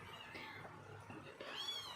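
Month-old kittens from a litter of seven meow softly in a cage, with a faint high mew near the end over steady low background noise.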